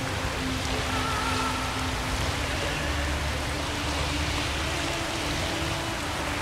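Heavy rain in the video game The Witcher 3 pours in a dense, constant hiss at full, even loudness, with a faint low tone underneath and no speech.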